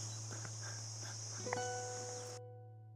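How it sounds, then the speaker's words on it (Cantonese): Cicadas call in a garden as a steady, high, buzzing drone, with a low hum beneath and a few faint chirps toward the end. "跟住仲聽到啲蟬啊、雀仔喺度叫，非常寫意。"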